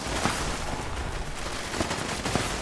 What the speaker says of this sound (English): Here it comes, artillery barrage.